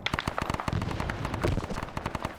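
Rapid gunfire crackles in a Vietnam War shooter game, with dense bursts of automatic shots and sharp single cracks overlapping in a steady barrage, moderately loud and continuous throughout.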